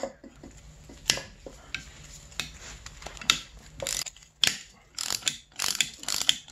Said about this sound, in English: let's go ahead and break these three bolts loose that are holding in the stator.